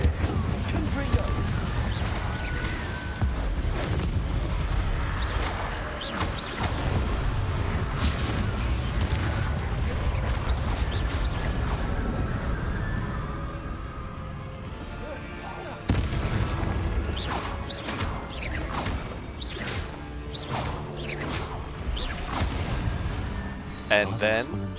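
Confringo and Incendio spell explosions in the Hogwarts Legacy video game boom and crackle in repeated blasts over a busy combat soundscape, with a spoken voice present throughout.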